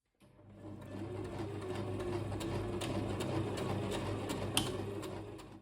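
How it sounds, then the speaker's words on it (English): A sewing machine runs steadily, stitching kimono fabric about a centimeter from the edge, its motor whirring in an even, continuous buzz with a few light clicks, close and fairly quiet, with no talking. "I am sewing about 1 centimeter from the edge"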